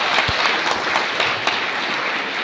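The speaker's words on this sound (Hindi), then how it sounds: "एक बार जोरदार तालियां मैम के लिए" An audience applauding with dense, sustained clapping that runs steadily throughout, fairly loud, with no voice over it.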